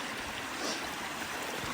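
Mountain stream water rushing over rocks at a crossing point on a hike up a Scottish Munro, a steady close broadband wash with no voices.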